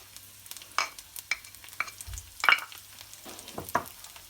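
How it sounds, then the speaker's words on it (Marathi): Curry leaves and crushed garlic cloves spit and crackle in hot oil for a Malvani fish curry, giving scattered sharp pops and brief sizzles up close with a few soft clatters, and no talk. "तेल तापल्यानंतर त्याच्यात कढीपत्ता आणि मी इथे 2 ते 3 लसूण घेतलेले आहेत, ठेचून घेतले"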